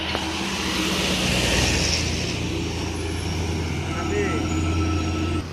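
Buses idling at a small bus terminal serving Padang–Jakarta executive coaches, a continuous low engine rumble with a faint hiss, under someone speaking.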